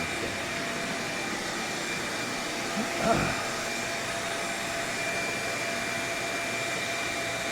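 A vacuum cleaner runs steadily in a woodshop near a table saw, a constant broadband whoosh at moderate level throughout with one brief thump partway through and no voices.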